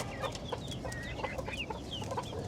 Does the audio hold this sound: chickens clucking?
yes